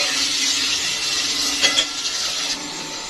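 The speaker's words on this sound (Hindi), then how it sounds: "ऑयल लिया है प्याज को सेव कर लेना है और प्याज को अच्छे से भून लेना है।" Chopped onions sizzle steadily in hot oil for chicken biryani, a continuous hiss with a few brief stirring scrapes near the middle; no one speaks.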